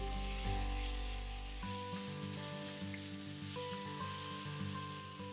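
Fried onions and freshly cut tomato sizzle in a pan for a spinach and dal curry, a low, continuous frying hiss under steady tonal background music.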